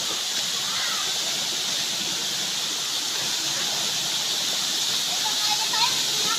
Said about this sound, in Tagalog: Nandito na tayo sa Ringan Falls.